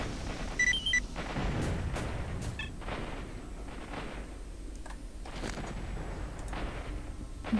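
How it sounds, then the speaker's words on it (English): Gauss gun shots in the video game S.T.A.L.K.E.R. Shadow of Chernobyl, with several sharp booming reports spaced through the clip over a low ambient rumble. "Gauss gun."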